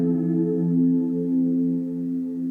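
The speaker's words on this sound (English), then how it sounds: "That is just my guitar with reverb and what's called a phaser." Sustained, droning electric guitar tones with a lush, wide wash of reverb and slowly shifting swirl from a Walrus Vanguard dual phaser, ringing steadily without pause.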